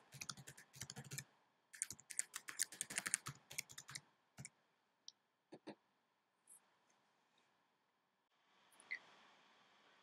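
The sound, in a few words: typing a password on a computer keyboard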